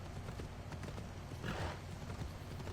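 A horse's hooves clip-clop at a steady pace in Assassin's Creed Odyssey. The hoofbeats are faint and low in the mix, set against a continuous rumble of ambient game sound.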